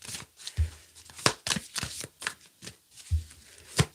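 Tarot cards being shuffled by hand in a series of crisp riffling bursts and soft taps, uneven in rhythm, close and fairly quiet with no talk.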